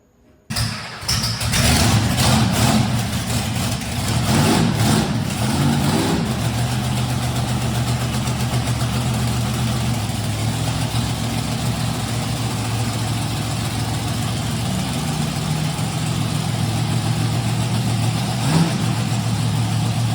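Thunder 4x4, a monster truck, starts up with a sharp crank and then settles into a loud, close, rough idle with occasional revving swells over about twenty seconds.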